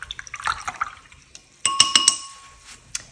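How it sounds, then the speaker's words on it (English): A paintbrush for acrylic painting is rinsed in a glass of water: light swishing and sloshing, then a cluster of bright clinks as the brush taps the glass rim, close and fairly quiet. "I'm going to wash off my brush."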